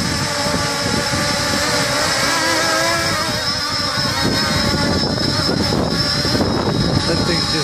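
A Ghost drone hovers outdoors in roughly 15 mph wind, its rotors giving a steady, loud, close buzzing drone with gusty wind noise mixed in throughout, no pauses.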